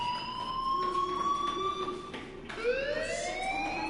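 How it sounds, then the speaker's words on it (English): A school fire alarm in the video game Life is Strange wails as a loud, continuous siren, its rising and steady tones sweeping upward again near the end, with no voices over it. "Hey, do you hear that fire alarm?"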